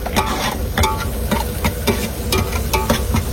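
Tomatoes sautéing in a pan while cooking aboard a deep sea fishing boat, with repeated scraping stirs of a spoon over a continuous close sizzle.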